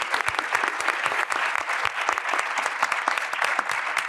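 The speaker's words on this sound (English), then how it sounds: "A round of applause." Audience at a business forum panel on investing in North America applauds steadily, a dense wash of many hands clapping at close range for several seconds with no talk over it.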